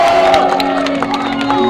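A live audience at a concert event in Sigli, Aceh cheers and shouts loudly and without pause, a dense crowd roar with voices mixed in.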